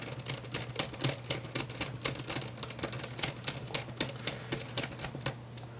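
Two screws being refitted in a Dell Inspiron 15-3510 laptop, heard as a rapid run of small, close clicks and ticks in a quick, uneven rhythm.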